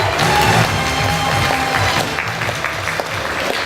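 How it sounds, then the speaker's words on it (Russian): An audience at a school graduation ceremony gives the nominees a long round of stormy applause, with crowd noise mixed in. The clapping is loud and steady throughout and eases slightly toward the end. "Давайте же проводим наших номинантов бурными аплодисментами."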